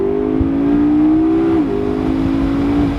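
McLaren MP4-12C engine, a loud, sustained mid-pitched hum held steady for a few seconds, dipping briefly partway through as if changing gear, with no voices over it.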